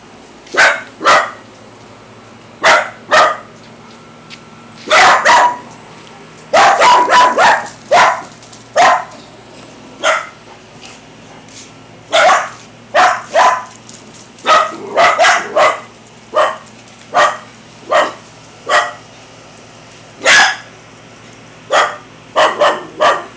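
Dogs bark in scattered bursts, some single yips and some quick clusters of several barks, fairly close and loud over a low steady hum, with no talking.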